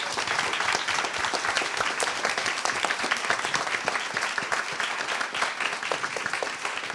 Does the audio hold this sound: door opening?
no